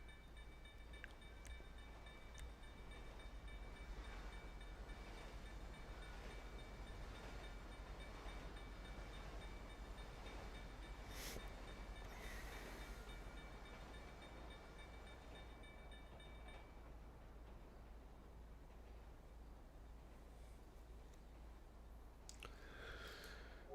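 Train rolling along railroad tracks in the video game GTA Online, a steady low rumble with wind noise, fairly faint and without talk, with a few brief higher clanks near the end.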